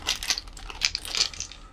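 Several large, chunky dice clatter together in a cupped hand, a burst of close, crisp plastic clicks in two or three quick shakes over a brief moment, with no one talking.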